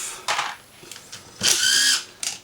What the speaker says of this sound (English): We're just going to undo those 3 screws there, and we'll be able to take that off.